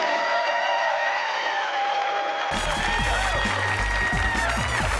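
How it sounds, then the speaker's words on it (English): Audience applause and cheering at a women's pool tournament final in Hollywood, Florida, a dense crowd roar that swells abruptly halfway through with scattered whoops. "how about a round of applause"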